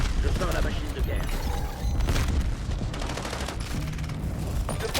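The War Machine weapon fires during a Call of Duty Black Ops 7 multiplayer match, heard as loud, dense bursts of gunfire and mechanical clatter under in-game French voice announcements.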